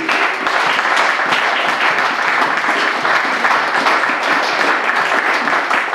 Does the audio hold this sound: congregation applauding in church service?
yes